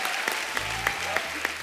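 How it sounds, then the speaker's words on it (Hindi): Studio audience applause on a Hindi comedy talk show, a brief burst of dense clapping from a large crowd, loud and steady throughout. "जोरदार तालियां हो जाए"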